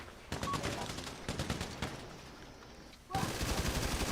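Bursts of rapid automatic gunfire and single shots crackle in an online Grand Theft Auto V gunfight, coming in quick volleys with a short lull before a final burst.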